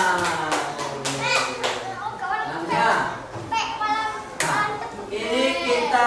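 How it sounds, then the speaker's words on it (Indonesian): Children in a classroom clapping together during a Quran lesson on Surah An-Nas, a few sharp rhythmic claps up front followed by excited young voices chattering and singing over more scattered clapping. "Tepuk tangan buat kita semua."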